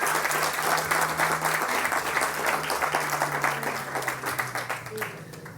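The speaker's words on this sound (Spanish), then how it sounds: "Démosles un aplauso." Church congregation applauding, a sustained loud patter of many hands clapping that eases slightly toward the end, with a low voice talking underneath.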